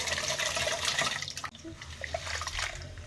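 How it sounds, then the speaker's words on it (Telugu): Soaked lentils for adai dosa being rinsed in water, with a steady watery swishing and splashing for about three seconds, briefly dipping mid-clip before resuming with small drips and splashes. "ఇట్లా పప్పుని బాగా కడిగి"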